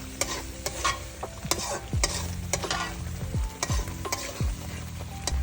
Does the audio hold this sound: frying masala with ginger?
yes